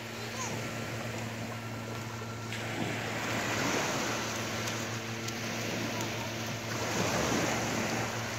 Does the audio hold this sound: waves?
yes